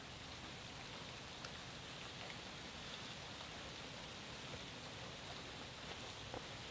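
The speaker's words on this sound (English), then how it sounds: "So, as you can probably hear, it's raining." Continuous rain falling during an outdoor obsidian flintknapping session, a soft even hiss at low level with faint scattered drips, steady throughout and no voices.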